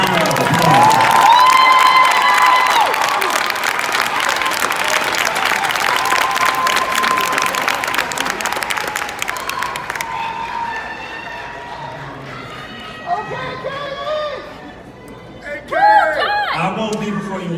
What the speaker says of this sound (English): can we all give these youngsters a round of applause?